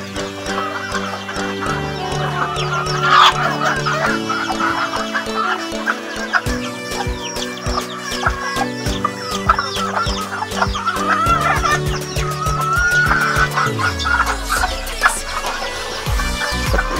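Farmyard chickens cluck and chatter continuously at close range, with overlapping hens and occasional sharper calls over a busy rural afternoon background, no speech.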